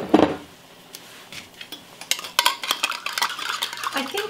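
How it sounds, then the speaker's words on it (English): An emptied soup can is rinsed while making ground beef barley soup, giving light metallic clinks and scraping, close and irregular, with a sharper clatter at the start. "And then don't forget to rinse your can."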